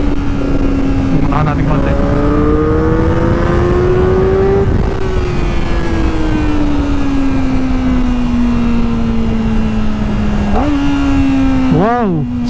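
Kawasaki ZX4RR 400cc sport motorcycle engine revving and pulling through rising and falling pitch sweeps, with quick-shifter gear changes dropping the tone near the end, loud and close under a brief spoken remark.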